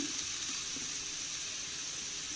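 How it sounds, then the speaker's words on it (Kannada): Grated carrot frying in ghee for carrot halwa gives a steady, even sizzle that holds level with no breaks and no voices. "ಅದನ್ನು ಫುಲ್ ಹಾಕ್ಕೊಂಡು ತುಪ್ಪದಲ್ಲಿ ಚೆನ್ನಾಗಿ ಹುರ್ಕೊಳ್ಬೇಕು"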